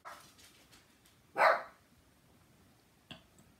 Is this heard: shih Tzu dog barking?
yes